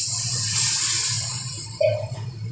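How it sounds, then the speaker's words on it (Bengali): Water poured into brinjal curry frying in oil, a close rushing hiss over a low hum of the stove. "এইবার আমি এর মধ্যে দিয়ে দিব জল।"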